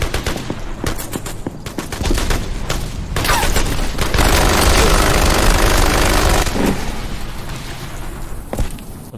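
Rapid bursts of gunfire from a weapon in the Xbox 360 shooter Turning Point: Fall of Liberty, loud and dense, with sustained automatic fire in the middle and scattered single shots before and after.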